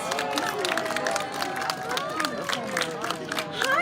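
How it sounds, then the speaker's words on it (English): A crowd at a children's Paw Patrol stage show at the Calgary Stampede claps and cheers for a costumed character, the applause moderate and mixed with excited children's voices and chatter. "Let's give him a round of applause."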